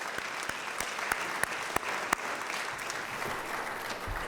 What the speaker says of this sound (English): how about one more round of applause for our sponsors tonight?